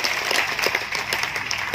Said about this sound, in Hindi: जोरदार तालियों से आप अभिवादन और स्वागत करें